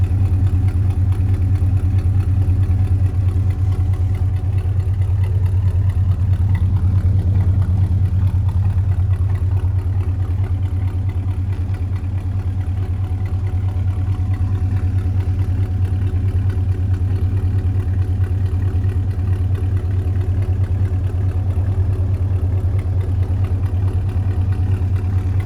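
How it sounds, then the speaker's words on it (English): A 1967 Pontiac GTO with a 400ci V8 idles steadily through a dual exhaust, giving a deep, even rumble up close that holds unchanged for nearly half a minute with no talking. "Gotta love that dual exhaust system."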